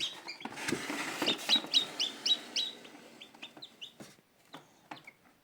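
Newly hatched chickens peep in an opened incubator, a rapid series of high, thin chirps close by, with soft rustling and shuffling underneath.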